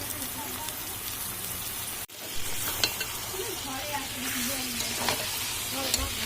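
Mutton fries in a pan while it is stirred, giving a continuous close sizzle with scraping strokes that briefly cuts out and then comes back. Faint voices sound in the background.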